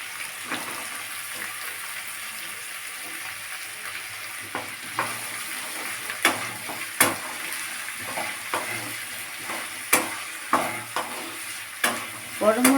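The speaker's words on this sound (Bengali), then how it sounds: "আগে সবজিগুলোকে ভেজে নেবো" Vegetables frying in a pan for Bengali style fried rice: a steady sizzle with scattered clinks and scrapes as they are stirred, the taps growing louder and more frequent toward the end.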